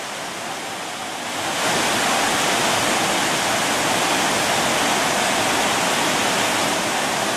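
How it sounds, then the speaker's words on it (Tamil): Thirparappu waterfall in flood, a dense, roaring rush of water that swells after the first second and then holds steady and loud throughout, with no voices. "திற்பரப்பு அருவியில் வெள்ளப்பெருக்கு ஏற்படவே சுற்றுலா பயணிகள் குளிக்க தடை விதிக்கப்பட்டுள்ளது"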